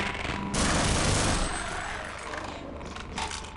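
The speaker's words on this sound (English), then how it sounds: "Those just grenades." Grenades explode in Half-Life, a loud, roaring burst of blasts that fades into a rough rumble with a few sharp cracks near the end.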